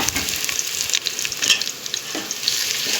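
Tempering spices sizzle and crackle in hot oil, a steady loud frying hiss with scattered pops and stirring scrapes, close up and without talk.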